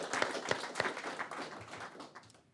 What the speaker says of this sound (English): round of applause for Sergeant Neal.